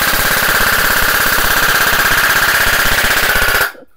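A G&G MXC9 airsoft rifle fires on full auto in a loud, close, continuous rapid burst of evenly spaced shots for several seconds, stopping abruptly near the end.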